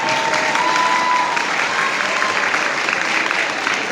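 Steady applause from an audience at a youth Bible recitation contest, a dense even clapping that holds at a constant loud level for the whole stretch with no talk over it.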